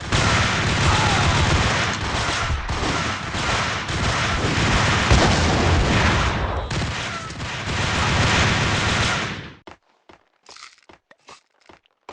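Heavy, continuous gunfire from a shootout in the mobile game Max Payne Mobile, a loud sustained barrage of shots that cuts off abruptly and leaves a few scattered sharp clicks and bangs.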